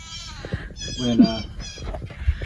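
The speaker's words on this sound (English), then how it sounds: "the little goats is running. They think they're going to get some food." Little goats on a snowy farm, running toward hay, give a brief bleat amid rustling movement and nearby voices.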